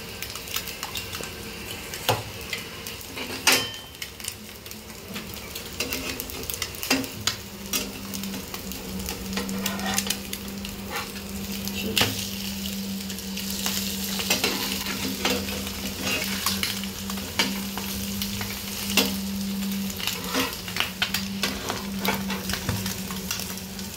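Egg bread patties fry in oil in a pan with a steady close sizzle, joined by occasional clinks and scrapes of a utensil against the pan. No one speaks.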